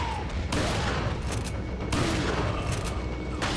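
Heavy shotgun fire rings out during combat in the Resident Evil 4 video game, with dense, loud overlapping blasts and booms throughout the short stretch.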